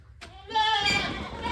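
A village goat gives one loud, close bleat with a wavering, drawn-out cry after a short quiet start, against faint outdoor background.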